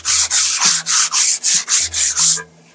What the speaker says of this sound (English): After you run over the surface with your 180 grit sandpaper